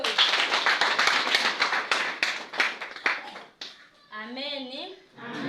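A church congregation at a Wednesday evening service claps in quick, close rhythm for several seconds, then the clapping breaks off and a sung or drawn-out voice rises alone.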